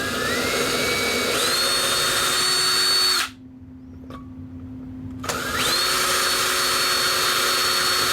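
A power drill fitted with a pilot bit whines loudly and rises in pitch as it runs, cuts off for about two seconds, then spins back up and drills on steadily.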